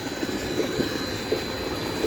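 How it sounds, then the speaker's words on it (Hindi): A tractor engine runs in a village field, giving a continuous low droning rumble at steady loudness with no voices over it. "ये सारा ट्रैक्टर"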